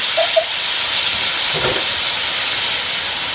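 Meat for Dominican sancocho sizzling in a hot pot, a loud, steady hissing sizzle throughout with a brief splatter near the middle; no talking.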